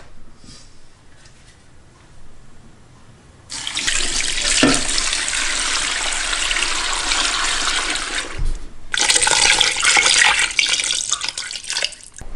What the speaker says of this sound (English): Now all you do is just add enough water to cover it.